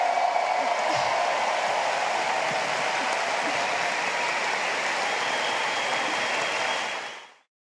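A crowd applauds a Polish athlete with dense, sustained clapping like rain, heavy and even throughout before cutting off sharply at the end.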